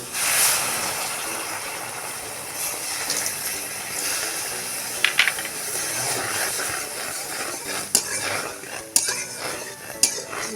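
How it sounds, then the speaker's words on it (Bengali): Water poured onto reddish roasted semolina in a pan sizzles and hisses steadily, with a few sharp clinks of a utensil against the pot and no voices. "আমার সুজিটা হয়ে গেছে একটু লালচে মতো দিয়ে দিচ্ছি জল"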